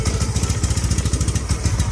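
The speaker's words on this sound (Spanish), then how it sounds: "ya se escucha un poquito mal el escape" A WS150 motorcycle engine idles close by with a rough-sounding exhaust, a steady fast chugging pulse with uneven puffs and some mechanical clatter, and no voices.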